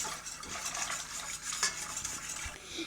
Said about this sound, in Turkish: Şöyle karıştırmaya ben devam ediyorum.